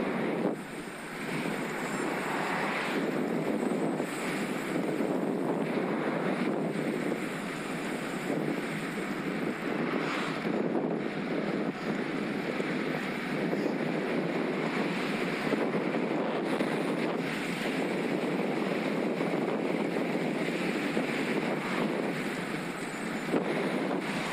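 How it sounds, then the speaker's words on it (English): Strong, constant wind buffets the microphone as a Scott Addict RC road bike coasts fast downhill near Sutton Common, with the wind roaring steadily and gusting throughout. "Strong headwind slowing me down, maybe a good thing."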